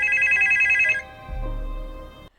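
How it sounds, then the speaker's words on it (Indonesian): A telephone bell rings briefly and clearly, then cuts off, followed by a low muffled thump. "tapi kali ini beneran bunyi dari telepon dong"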